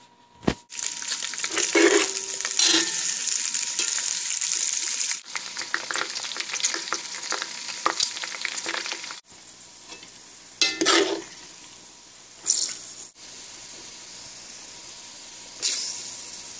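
Pork fat renders down into lard in a pot, giving a steady close sizzle and bubbling with occasional stirring clatters, easing off near the end into quieter fizzing broken by a few sharp scrapes.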